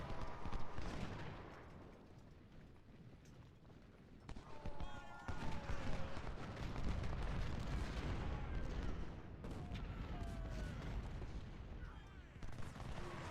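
Artillery booms and rifle gunfire from the Civil War strategy game Ultimate General: Civil War roll on without a break, with scattered shots over a low rumble and a voice talking over the battle.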